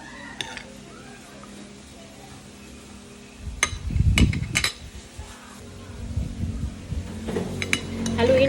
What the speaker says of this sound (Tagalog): Haluin pa natin.